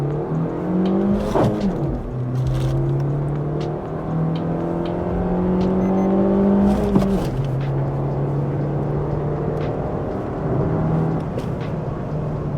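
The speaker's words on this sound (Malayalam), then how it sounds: "ഞാനിപ്പോൾ ഒന്ന് റവ് ചെയ്ത് കാണിച്ചു തരാം" A Maruti Suzuki Swift with a K12N Dual Jet petrol engine and five-speed manual is revved repeatedly, the close engine note climbing in pitch then dropping back to idle several times.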